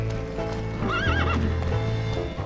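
Horse in The Lego Movie Video Game's Old West level, with quick clip-clop hoofbeats and a loud rising whinny, game music underneath, no talk.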